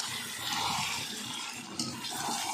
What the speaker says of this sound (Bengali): মাংস কষিয়ে নিয়েছি, এবার আমি জলটা দিয়ে দিচ্ছি।